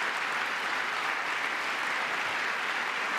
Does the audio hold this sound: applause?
yes